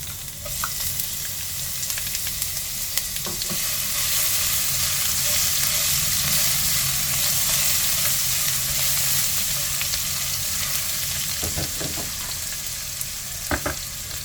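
Crushed garlic and ginger fry in hot oil in a pan, giving a steady, loud sizzle with occasional stirring clicks and scrapes throughout, with no talking.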